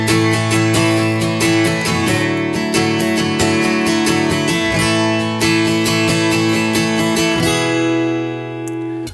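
Acoustic guitar played through a TC Helicon VoiceLive Play with body resonance turned to zero, producing loud strummed chords and picked notes that end with a final ringing chord fading out.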